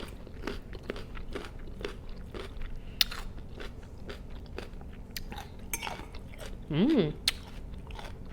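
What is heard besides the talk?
biting and crunching a raw radish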